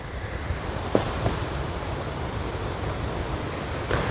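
Wind blowing outdoors beside a black walnut tree during open-air painting: a steady, rushing broadband roar with occasional soft gusts buffeting close against the microphone.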